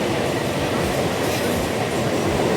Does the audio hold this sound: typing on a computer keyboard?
no